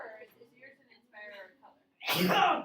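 A person speaks briefly, then after a pause there is a single loud, sharp sneeze close to the microphone in a classroom setting.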